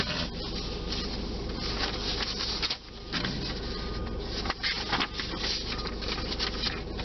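Newspaper pages handled and turned at close range, giving a steady papery rustle and crinkle with brief crisp flips, no talk over it.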